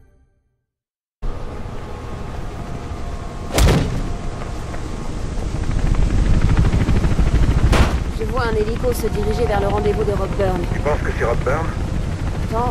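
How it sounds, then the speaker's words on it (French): A police helicopter in the Mirror's Edge video game drones steadily and grows louder, with sharp loud bangs mixed in and warbling tones, while a voice speaks over it. "on dirait bien que c'est un hélicoptère de police"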